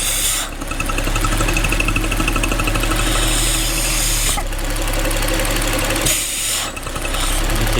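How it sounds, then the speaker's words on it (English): Audi 3.0T engine running steadily while its oil cap is pried up against strong crankcase suction, a broad hissing airy layer over the idle that cuts out briefly around the middle and again near the end. "You can hear when I'm trying to lift it, it's sucking."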